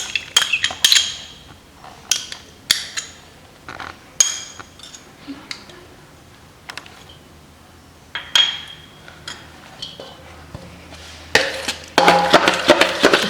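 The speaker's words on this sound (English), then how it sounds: "It's getting mixed now." A spoon stirs shrikhand in a bowl, giving irregular bright clinks and taps against the sides, some sharp and close, between quieter scraping stretches, with no talk.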